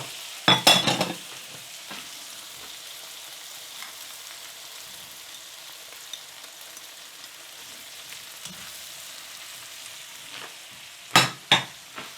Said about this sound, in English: There's your onions. There's the carrots. And we'll just do this for 2 minutes.